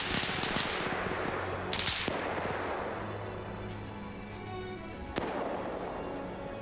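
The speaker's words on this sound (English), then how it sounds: "look at that incoming fire" Incoming fire in a WWII military game battle between Italians and Russians, heard as a sustained distant roar of artillery and gunfire with a few sharp cracks standing out, a mid-level rumbling wash with no talk.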